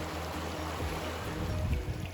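No Business Creek flows past as a broad, steady rush of water, close and continuous, with a low rumble swelling slightly near the end and no voices.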